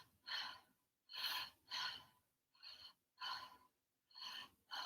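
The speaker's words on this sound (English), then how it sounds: "Breathing in a connected way, in and out." Connected breathing in and out at a steady, unhurried rhythm, each breath a close, breathy rush with short quiet gaps between, about six breaths in a row with no talking.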